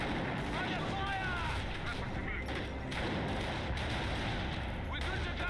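Gunfire and artillery rumble through a war video game battle at Hill 112, a dense, continuous low roar of distant blasts and shots with voice chatter faintly layered over it.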